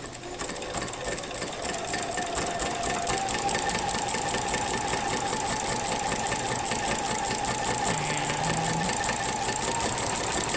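A sewing machine fitted with a walking foot stitches a quilt, a continuous close rapid mechanical whirr and needle chatter running steadily from start to end.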